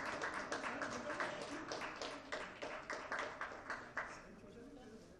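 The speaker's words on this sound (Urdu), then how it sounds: "بہت ساری تالیاں" Audience applause with rhythmic clapping at a Kashmir Premier League signing ceremony with Shahid Afridi, steady clapping at moderate distance while an announcer speaks over it.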